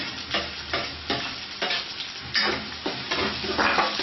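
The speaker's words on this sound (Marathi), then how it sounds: "कांदा छान आपल्याला फ्राय करायचा आहे 2 ते 3 मिनिटं" Onions fry in a pan over a medium flame for misal, a continuous close sizzle punctuated by regular scraping stirs of a spatula, about five or six strokes.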